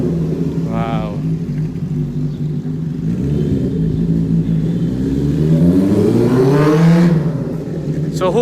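A Benelli TNT 600i motorcycle's exhaust revs up and holds steady at close range, with a rising pitch sweep near the end, while people talk excitedly over it.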